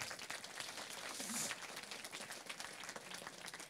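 A conference audience at a DevOps keynote closing gives a faint, distant burst of steady applause, many hands clapping in a dense wash that swells briefly and then continues at low level.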